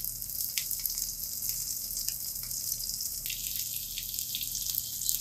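Sliced okra fries in hot oil on a flat chapati tawa, giving a continuous, fairly faint hiss with small crackles and pops scattered throughout, no voices.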